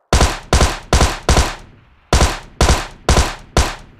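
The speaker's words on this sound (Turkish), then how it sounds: "buradan mermi sesleri geliyor" Video game gunfire rings out as sharp, loud shots in two quick groups of four, evenly spaced, with a short pause between the bursts and no talk over them.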